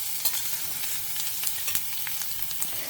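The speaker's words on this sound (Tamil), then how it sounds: "காயை போட்டுன்ட்டு அதுக்குண்டான உப்பையும் போட்டுடுறேன். சீக்கிரமாக காய் வதங்கும்." Chopped ridge gourd sautés with salt in a hot pan, a continuous close sizzle broken by frequent scraping and stirring clicks.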